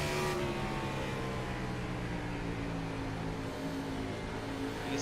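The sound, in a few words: race car engine in a sim racing video game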